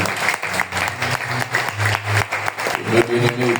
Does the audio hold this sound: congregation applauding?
yes